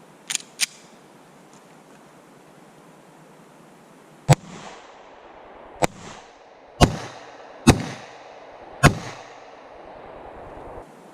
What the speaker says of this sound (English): So I'll show you some rounds through it, and we'll see how that looks.